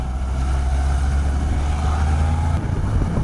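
A Suzuki GSX-S750 inline-four motorcycle engine runs loud and steady under throttle, a continuous droning hum with rushing wind, heard close from the rider's position without talk.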